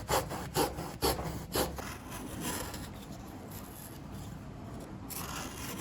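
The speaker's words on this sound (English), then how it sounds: "It's going to take a lot of cutting and trimming to get that to the right shape." A wooden block for the hull of a 1960s Veron Caribbean Coaster model boat is sawn and trimmed, a few rhythmic rasping strokes at first, then a steadier continuous scraping and rubbing close up, with no talking.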